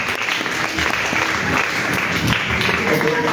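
A church congregation claps together during a Sunday worship service, a dense, steady wash of applause filling the room from start to finish with a few voices mixed in.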